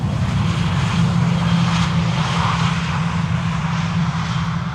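Air Arabia Morocco jet airliner arriving on the Polderbaan runway at Amsterdam Schiphol, its engines a loud, continuous roar throughout with no voices.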